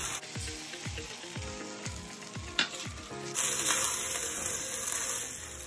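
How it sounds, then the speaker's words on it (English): Chicken and broccoli sizzling in brown sauce in a pan, with rhythmic bubbling pops early on, then a louder, steadier sizzle. "So we'll let this cook for another minute until the sauce thickens"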